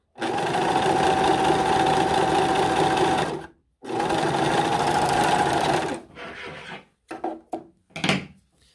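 A Singer S0235 overlock sewing machine runs loud and close, stitching a 4-thread seam in two sustained whirring bursts about three seconds each, then a few short stop-start pulses as the seam finishes.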